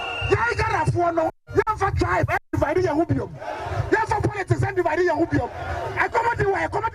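A large crowd of protesters at an economic demonstration roars and chants close by, with overlapping shouting voices and brief sharp breaks in the din.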